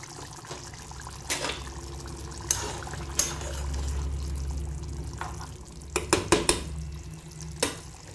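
Desi rooster chicken simmering in a pot over low heat, a steady low bubbling hiss with occasional clinks and scrapes of a spoon stirring, close and moderately loud, no talk.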